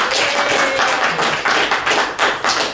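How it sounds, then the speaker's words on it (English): Audience clapping at an in-person Porter Ranch Neighborhood Council meeting: a dense, steady patter of hands filling the room for a few seconds, with a faint voice or tone threading through it. "And give us applause for that."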